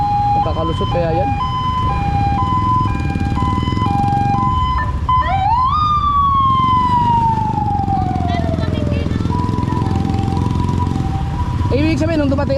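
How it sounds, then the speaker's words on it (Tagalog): An ambulance siren sweeps up and slowly falls, with repeating two-tone whoops, loud over steady traffic rumble and some background voices. "Kawawa yung ambulansya oh."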